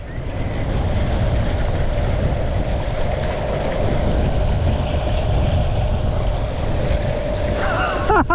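Pelican Catch Mode 110 boat's motor running at full throttle on open water on a windy day, a steady loud drone with a sustained tone, heavy wind buffeting and water rush throughout.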